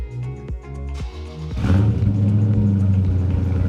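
A Dodge Charger Daytona 392 revs through its active exhaust, first a few quick blips and then a deep, loud, sustained roar close by, with no talking.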